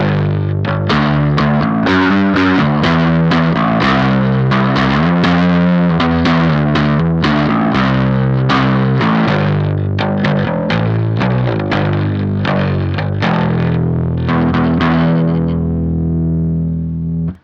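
An electric guitar through a Beetronics Nectar pedal in overdrive mode plays a continuous, loud, thick run of distorted notes and chords that fades out at the end.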